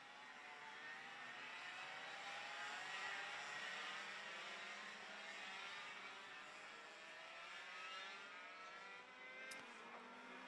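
100cc racing karts at a pre-1995 class Grand Prix final, engines screaming at high revs near 20,000 RPM, a dense, steady high-pitched whine heard from a distance and fairly faint.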